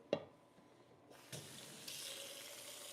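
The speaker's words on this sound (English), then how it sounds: "Just gonna fill her up with some" A faucet opens with a click and cold water runs steadily into a pot for pastrami brine, the rushing stream growing slightly fuller toward the end.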